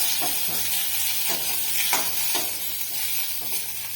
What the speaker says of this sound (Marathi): ओव्याची पानं दहा बारा मिरे आणि पाव चमचा जिरे असं सगळं छान परतून घेणार आहोत